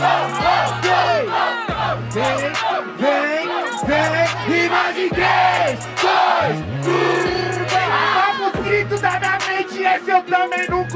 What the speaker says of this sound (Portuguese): Eu prefiro ouvir todo o grito da plateia